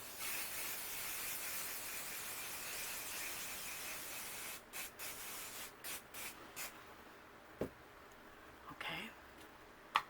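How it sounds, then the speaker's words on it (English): A steady hiss of an aerosol spray can runs for several seconds, followed by short separate spurts and a few faint clicks. "We're going to spray this up here."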